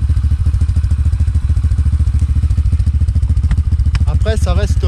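A Chinese quad bike engine starting and then running with a steady, loud, rapid throbbing beat throughout, with brief talk near the end.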